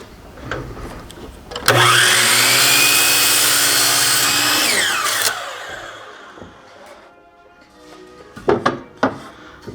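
A power saw cuts a piece off a wooden 2x4, whining loudly and steadily for about three and a half seconds before spinning down. A few knocks and handling clatters come before and after the cut.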